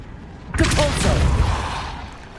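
A Depulso spell cast in Hogwarts Legacy lands as a sudden loud whooshing blast with a thumping impact, followed by a decaying rumble that fades over about two seconds.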